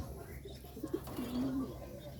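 A pigeon gives a single low, drawn-out coo, faint and close, after a couple of soft short notes in a quiet setting.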